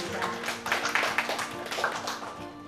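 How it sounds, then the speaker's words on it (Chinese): An audience at a film screening and talk on a gay-themed film applauds to welcome the speaker: scattered, moderately loud clapping over a couple of seconds, mixed with a voice speaking. "那我们大家掌声欢迎老师一下"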